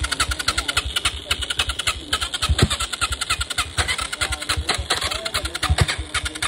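A motorcycle engine cranks and sputters in rapid rhythmic pulses, close and loud, struggling to catch and run steadily, with no one talking over it.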